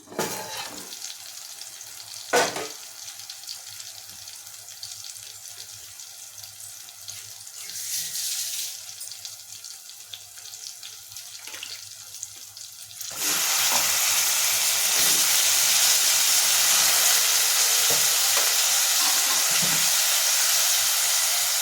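Brinjal pieces frying in a pan for a kabuli chana curry: a steady broadband sizzle that jumps sharply louder partway through as the pieces hit the hot oil, with occasional clinks and stirring before.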